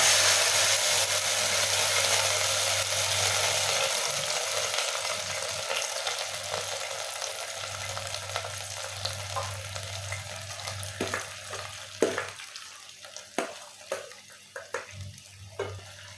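Sardines frying in hot oil with garlic in a rice cooker pot, a steady close sizzle that later breaks into scattered scrapes and clinks as a utensil stirs them.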